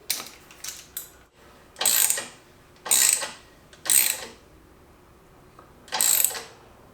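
An Allen screw on a clamp being tightened down onto a lead gasket, heard as several separate bursts of ratcheting, grinding metal turns with short quiet gaps between them, close and fairly loud, with no talking.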